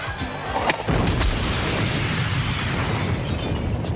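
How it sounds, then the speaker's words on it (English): A school blown up in a Munchie film: one loud, deep explosion bursts out after a brief lead-in and then rumbles on as a sustained roar of debris. "But Munchie just blew up a school"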